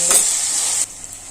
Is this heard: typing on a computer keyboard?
no